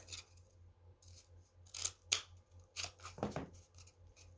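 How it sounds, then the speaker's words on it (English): Scissors cut into a cardboard toilet paper tube. A few quiet, close snips and scraping rustles come in short bursts, with no talking. "I'm going to take my toilet paper tube and my scissors, and I'm just going to make two"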